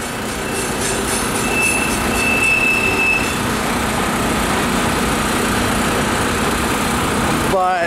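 A westbound freight train, not an Amtrak, rolls past at close range in a sustained, loud rumble with clanking cars and a brief high wheel squeal. There is no letup, and a short noise comes right at the end.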